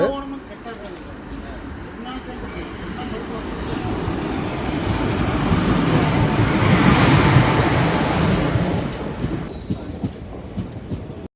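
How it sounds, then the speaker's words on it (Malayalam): A train rolls into Avaneeswaram railway station on the Kollam–Tenkasi line, its rumble and wheel clatter swelling to a peak then easing, with high squeals and people talking nearby. "നമ്മളെ ട്രെയിൻ ഇതാ എത്തിയിട്ടുണ്ട്"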